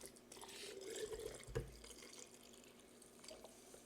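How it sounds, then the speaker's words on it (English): Water is poured into a jar holding tea, honey and mint for cold brew, a soft, close trickle and splash that builds for about a second and a half and then fades into quiet dripping. "And then pour your water."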